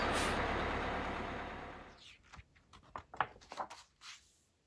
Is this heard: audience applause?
no